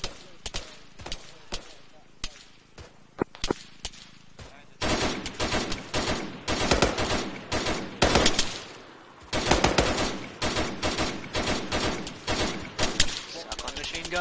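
Arma 3 machine gun fire in a tactical military operation, with bursts of sharp, rapid shots that start sparse and then turn into loud, dense volleys, some radio-style voice chatter mixed in.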